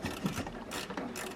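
A hand ratchet clicks rapidly in short bursts while loosening the carburetor bolts on a 20-year-old Polaris Pro-X 120 mini snowmobile, close and fairly quiet.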